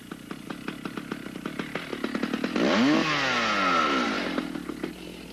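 A heavy Stihl chainsaw being started on the ground, with a series of rapid pull-cord strokes before the engine catches and revs up loudly, then settles back to a steady idle.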